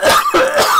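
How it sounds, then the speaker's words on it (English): A man coughs and clears his throat close to the mic: two or three quick, rough, throaty bursts in under a second. "I still have a little bit of a cough"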